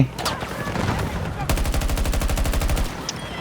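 Automatic gunfire in the video game Battlefield 2042: a few scattered shots, then a fast, loud continuous burst of rapid fire lasting over a second before stopping, with game ambience behind.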